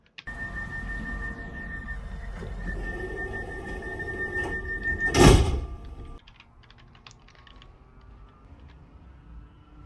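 Sliding train doors in a Roblox train game close after a door fault: a steady warning tone runs, then a single sharp thud lands before the background settles into a quieter hum.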